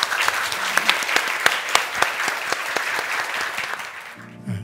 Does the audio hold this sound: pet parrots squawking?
no